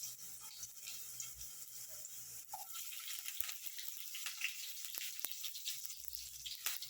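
Garlic and onion sautéing in preheated cooking oil for ginisang monggo, giving a soft, steady sizzle with faint scraping and stirring, quiet and close with no talking.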